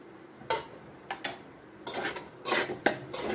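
A lid clatters onto a pan of wheat upma, with a few sharp metallic clinks followed by a short burst of scraping and rattling, close by with no voices.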